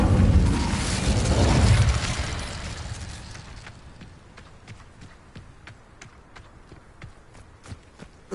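Incendio fire spell cast in Hogwarts Legacy: a loud whooshing burst of flame rises and fades over a couple of seconds, followed by quieter scattered crackles and thuds.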